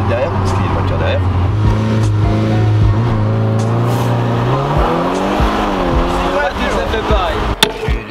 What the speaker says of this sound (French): On va laisser passer la voiture de derrière parce qu'il y a une voiture derrière.